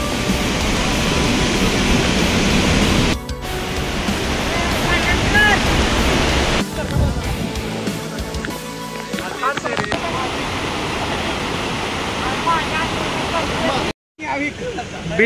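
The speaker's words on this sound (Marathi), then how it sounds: "धबधब्याची स्पीड खूप जास्त वाढलेली आहे" The Ozarde waterfall in western Maharashtra roars in a loud, constant wash of noise close by, its flow running high, with people talking over it and brief dropouts.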